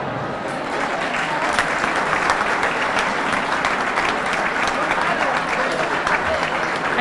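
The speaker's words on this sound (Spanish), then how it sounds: "Y un aplauso para Edu también." Audience applause at the Limones Solidarios festival, a dense, sustained clapping from a crowd that keeps going evenly for several seconds, with a voice speaking underneath.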